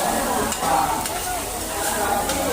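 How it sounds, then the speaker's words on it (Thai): Hoi tod, fried mussels or oysters, sizzles loudly in a pan at a kathin merit-making festival at Wat Phai Lueang in Nonthaburi, with steady crackling hiss and faint stirring scrapes throughout. "หอยทอดครับ"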